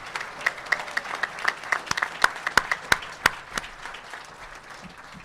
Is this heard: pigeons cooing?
no